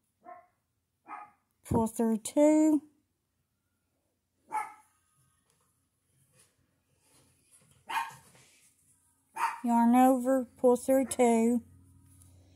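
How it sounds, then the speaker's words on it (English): A dog barks in short bursts a few times in the background while someone talks steadily over it, explaining a crochet double crochet stitch. "Excuse the barking dog."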